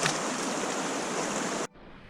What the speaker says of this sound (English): So we have multiple streams to cross.